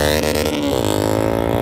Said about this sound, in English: that exhaust is too loud